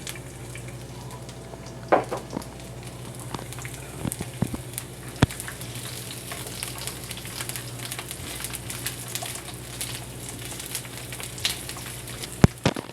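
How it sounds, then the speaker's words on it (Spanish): Onion and garlic fry in oil in a pan, giving a steady, even sizzle with faint crackles and occasional soft pops, and no voices. "Vamos a agregar aquí nuestra cebolla para que se vaya acitronando."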